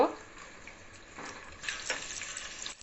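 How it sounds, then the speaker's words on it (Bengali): Lightly salted egg being stirred and scrambled in a pan for Chinese-style noodles gives a faint, soft sizzle with gentle scraping and stirring sounds. "এখন ডিমটাকে আমি নেড়ে চেড়ে ঝুরঝুরে করে নিব।"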